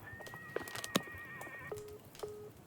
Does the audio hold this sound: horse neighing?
yes